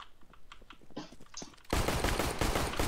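Counter-Strike gunfire breaks out partway through as a dense, loud volley of rapid overlapping shots, following quieter scattered game sounds and brief clicks.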